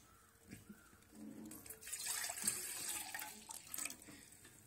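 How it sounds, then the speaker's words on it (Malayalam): Water pours from a tap into a cooking pot in a home kitchen, a steady splashing stream that swells and runs on for a few seconds, fairly close and alone without talk. "കുറച്ച് വെള്ളം ഒഴിച്ച് കൊടുക്കുക ഇതിലോട്ട്."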